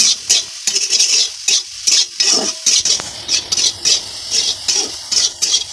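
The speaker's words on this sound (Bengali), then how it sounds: "লাল লাল করে ভাজতে হবে আমাদেরকে সয়াবিনটা" Soybean chunks stirred and fried in a pan, with a steady high sizzle and repeated scraping strokes of a spoon against the metal in a regular rhythm, close and fairly loud.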